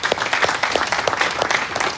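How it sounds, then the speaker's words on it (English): Sales team applauding together at a company meeting, a steady burst of many hands clapping close by for a couple of seconds. "give yourself a round of applause"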